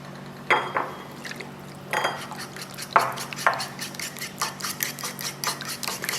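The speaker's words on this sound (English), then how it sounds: "You could use a whisk for this, but in this particular case I'm starting off with a fork." Fork scraping and clinking in a pot as hot broth is mixed into a butter and flour roux, with irregular metallic taps and wet stirring sounds, close and fairly clear, growing busier toward the end.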